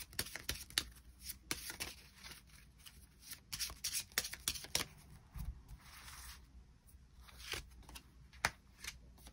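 Tarot cards are shuffled and drawn by hand at close range, with a quiet riffling and sliding of cards, soft taps and flicks, and no voice.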